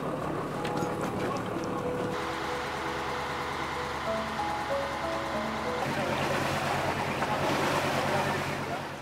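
Riverboat travelling on the Mekong River toward Luang Prabang, a steady engine drone with rushing water and wind noise throughout, the tone shifting partway through.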